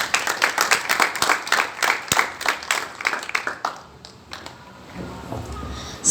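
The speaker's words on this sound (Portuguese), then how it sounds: "Aplauda o Senhor Jesus." A church congregation claps for Jesus in loud, rhythmic bursts for about four seconds, then the applause thins out into scattered claps and fades into quiet room noise.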